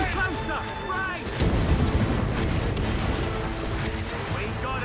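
Ship cannon fire in a naval battle in Assassin's Creed Rogue, booming blasts over wind, ocean waves and a creaking ship, with a sustained rumble after a heavy hit and voices shouting over the action.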